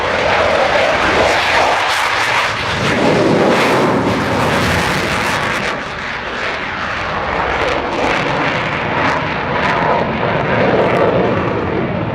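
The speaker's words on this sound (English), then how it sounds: "This is the Swiss Hornet display team." Swiss Hornet jet fighters in a flying display at Yeovilton International Air Day 2014, a loud continuous engine roar with rumbling and crackling that dips briefly and then surges again.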